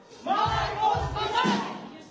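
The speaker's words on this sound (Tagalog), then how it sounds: "pero maririnig ang sigawan ng mga tao" A crowd at a political rally in Los Angeles shouts in several loud surging bursts, voices rising and falling together, then fading toward the end.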